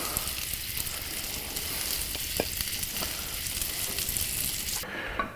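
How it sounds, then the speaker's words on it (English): Food frying on a hot griddle in burger drippings, a steady dense sizzle and crackle that runs loud and continuous, then cuts off abruptly near the end. "You lay them right in the goodness of the burger drippings. And they'll fry right on that"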